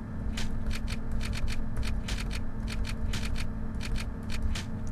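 Typewriter-like typing sound effect from the video game OFF, a quick run of crisp clicks at an irregular rhythm over a steady low background hum, close and moderately loud.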